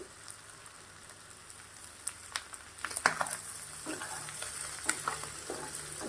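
Mutton boti with gongura frying in masala in a pan, a steady soft sizzle with crackling pops and occasional stirring scrapes, fairly close and moderately quiet, with no talking.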